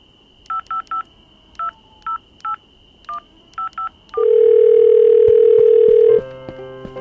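A telephone in a Minecraft machinima dials a call: a quick run of short keypad beeps in uneven groups, followed by a loud, steady tone lasting about two seconds before it changes.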